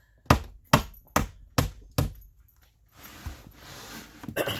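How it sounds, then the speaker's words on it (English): Sharp metallic taps of a nail punch driving nails into tongue and groove wall boards, five evenly spaced close strikes followed by softer handling noise and a final knock. "using the nail punch to tap in those nails"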